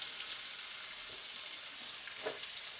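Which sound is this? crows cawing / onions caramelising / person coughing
onions caramelising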